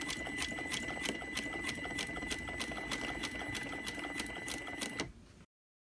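A sewing machine runs steadily while stitching an invisible zipper, its needle beating in a fast, even rhythm up close. The sound stops abruptly near the end.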